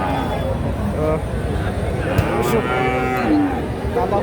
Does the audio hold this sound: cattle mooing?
yes